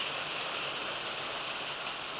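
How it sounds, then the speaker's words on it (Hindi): Heavy rain pours down in a dense, continuous hiss of drops striking surfaces, steady and enveloping with no voices. "आज बारिश बहुत अच्छा हो रही है यार"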